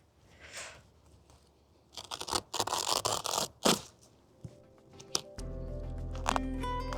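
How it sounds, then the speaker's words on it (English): Garden weed membrane being cut beneath raised beds in a kitchen garden, a run of close, loud tearing and scraping rips in bursts, then a steady hum with faint rustling. "what I want to do now is to cut the membrane"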